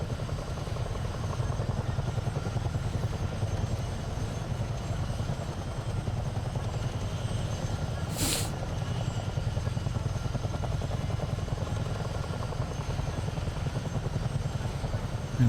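A CH-47 Chinook twin-rotor helicopter in Microsoft Flight Simulator gives a steady, loud, low rotor drone with a rapid beating throb that holds unbroken throughout, with a brief hiss partway through.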